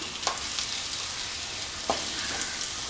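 Prawns roasting in a pan for Kerala chemmeen roast, a steady close hiss of frying oil with a couple of soft scraping stirs, no talking.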